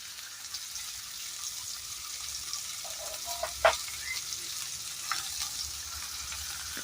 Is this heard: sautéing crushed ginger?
yes